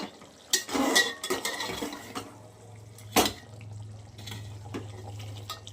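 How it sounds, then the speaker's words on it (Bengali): Goat meat being stirred and sautéed with spices in a pot, with scraping clatters of a spoon against metal, loudest near the start and then settling into intermittent stirring over a low steady hum. "খাসির মাংস কষা করছি, ভালো করে কষিয়ে নিচ্ছি খাসির মাংসটা"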